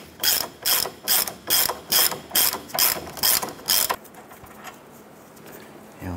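A ratchet wrench loosens a nut on the upper control arm of a 2008–2012 Honda Accord, with about eight quick, evenly spaced ratcheting bursts close up before it falls quiet.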